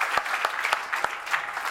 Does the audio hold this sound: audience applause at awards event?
yes